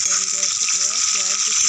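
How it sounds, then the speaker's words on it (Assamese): Oil heating and sizzling in a kadai while making banana flower fry, a steady bright hiss across the moment with a voice talking faintly underneath. "এতিয়া এয়া কেৰাহীত তেল দিছোঁ।"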